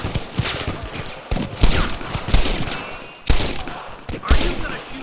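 Bursts of gunfire crack out during a Red Dead Redemption shootout with rustlers, several loud shots spaced irregularly over rumbling background action, with horses moving nearby.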